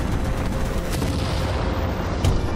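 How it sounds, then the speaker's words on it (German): Dull booms and blasts from a Halo 4 battle thump over a constant rumbling backdrop, with a sharper hit near the end as the player explodes. "Weil die Kanone sich zu mir gedreht hat, bin ich explodiert."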